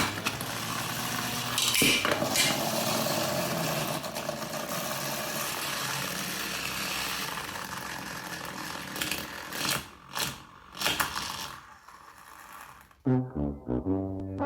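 A 3D printed combat robot's spinning weapon blade whirs loudly in a test that goes wrong, with rattling mechanical knocks and a few sharp clatters before the noise breaks up and stops.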